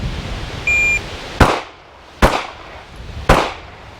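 Three sharp gunshots ring out on an outdoor range against steel targets, each a loud crack with a short metallic decay, spaced about a second apart, preceded by a brief electronic beep.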